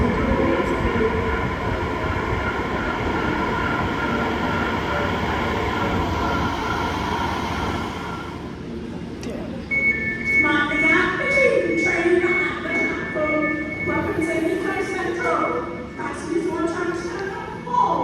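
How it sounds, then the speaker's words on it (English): A train rumbles in and slows along a platform at Heathrow Terminals 2 and 3 station, London, with a steady low roar giving way to squealing brakes and clattering metal; faint voices in the background. "Please stand back from the platform edge as the next train approaches."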